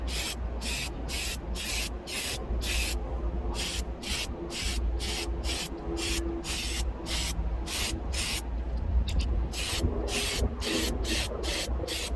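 Bursts of spray paint hiss as thick coats go onto a drift car body, a steady rapid rhythm of short close blasts separated by brief gaps, running continuously without talk.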